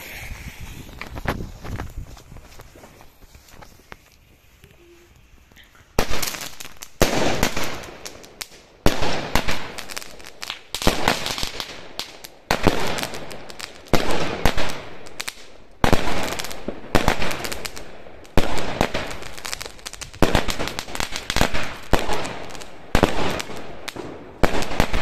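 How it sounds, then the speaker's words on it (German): A Schwester Pyro 16-shot firework battery fires in a rapid series of loud, sharp bursts, each crack followed by crackle, after a few quiet seconds of low ambient noise. "So, Schwester Pyro hier, 16 Schuss."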